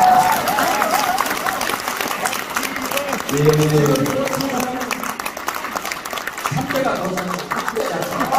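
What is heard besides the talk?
audience applause for Park Jie-won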